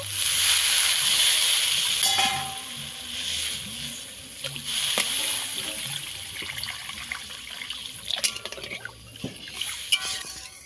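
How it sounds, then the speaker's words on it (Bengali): Water is poured into egg curry masala in a pan, a loud gushing pour for about two seconds that settles into bubbling, sloshing liquid and scattered utensil clinks, heard close. "তাই আমি জল দিয়ে দেব"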